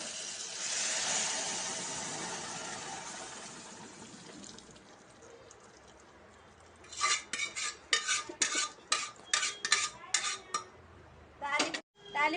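Tempering for mango dal sizzles loudly in a pan at first and fades, then a spoon scrapes and clinks against the metal pan in quick repeated strokes, up close.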